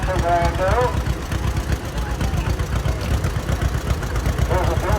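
A 1951 John Deere tractor engine runs steadily in a Florida tractor parade, pulling an original plow, with a low, continuous rumble and voices talking over it.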